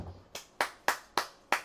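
Five sharp hand claps in a slow, slightly uneven rhythm, close and crisp, each with a brief decay and nothing else heard between them.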